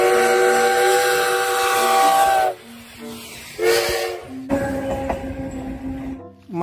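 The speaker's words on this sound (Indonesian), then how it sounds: "Kereta Thomas, teman-teman." A Thomas toy train gives off high, tonal whistle-like toots in separate bursts, interrupted by brief gaps and clicks, close and fairly loud with no voices.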